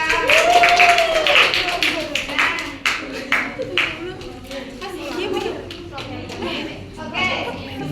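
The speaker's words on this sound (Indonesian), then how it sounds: "Tepuk tangan untuk Riendra." Applause for a student in a classroom during a micro-teaching session: a burst of many quick, uneven claps close by, mixed with children's voices and chatter, tapering into scattered claps.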